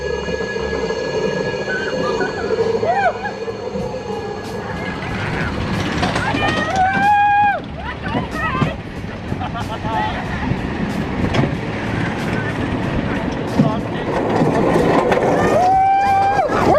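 The Saw roller coaster at Thorpe Park, a steep drop beneath saw blades, turns and an inversion: a rumbling ride train with riders' high screams rising over it and people talking throughout.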